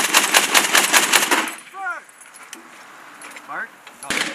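Bursts of heavy M2 .50-caliber machine gun fire at a Marine live-fire range, a loud rhythmic volley of shots at the start, then quieter shouted talk and a final shot.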